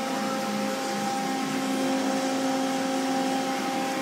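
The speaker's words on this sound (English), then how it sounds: "All right, so I turn the spindle on" A lathe spindle turning a Chung Yang GP460 flywheel runs with a steady, even machine hum and whine, holding constant and close throughout with no voices.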